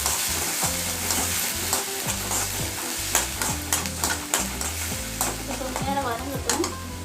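Onion paste sizzles in hot oil in a pan, a steady close frying hiss with regular scraping strokes of a spoon stirring it, loud and without talk.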